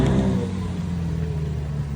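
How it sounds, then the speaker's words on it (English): A Ferrari SF90 driving past, a low rumbling engine tone that slowly fades as the car moves away, heard close and without talk over two seconds. "the SF90 driving past us right now."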